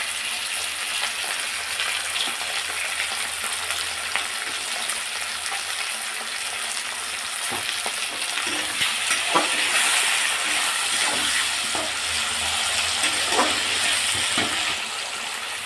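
Tomato, ginger and garlic fry in a hot pan with a steady, close sizzle, broken by several scraping stir strokes in the second half.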